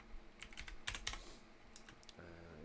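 Quick, crisp keystrokes on a computer keyboard as a search is typed, arriving in short bursts of clicks with brief pauses, close and clear, with no voices.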